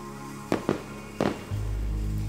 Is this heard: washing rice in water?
no